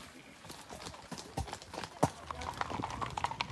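Horses walk a steep mountain trail in the Alps toward the Cormet de Roselend, their hooves clip-clopping in a steady plodding rhythm close by. A voice talks over the hoofbeats.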